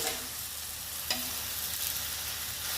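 Gongura (sorrel leaves) fry in a pan for a chutney, giving a steady, close hiss of sizzling with a brief stir or clink near the middle.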